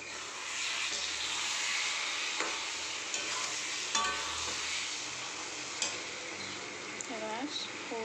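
Food fries over a high flame in a pan, a steady broadband sizzle running throughout, with occasional stirring clinks and scrapes.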